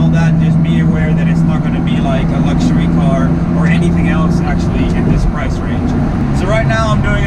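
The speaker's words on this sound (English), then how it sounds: "You have a lot of wind noise from the roof, obviously. You can hear the tires working." Steady, loud cabin noise inside an Alfa Romeo 4C Spider cruising at about 100 km/h in sixth gear near 2,000 rpm, with roof wind rush and a low tire roar. Someone talks over it throughout.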